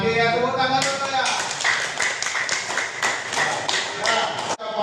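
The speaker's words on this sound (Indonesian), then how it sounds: "tepuk tangan dulu ya." A class of students claps in rhythmic bursts at a teacher's prompt, sharp repeated hand claps following a short stretch of speech, stopping abruptly at the end.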